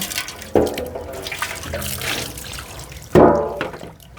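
Water from a tap runs and splashes while a puto steamer is rinsed, a steady close gushing with two sharper splashes of water striking the metal pot.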